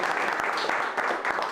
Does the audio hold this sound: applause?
yes